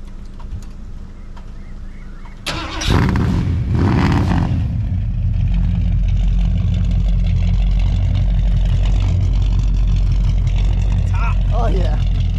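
A 1972 Ford Torino engine cranks and catches with a loud roar, then settles into a steady, rumbling idle that continues close by.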